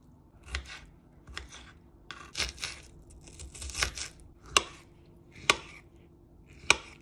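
Several crisp knife strikes on a cutting board, irregular at first then sharper and spaced about a second apart, close and fairly quiet.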